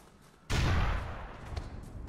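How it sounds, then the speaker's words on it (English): A grenade blast in GTA IV goes off close by, a sudden loud burst that falls to a rumbling, crackling decay which lingers with some scattered debris-like hits. "Oh shit, I just threw the nade at my feet."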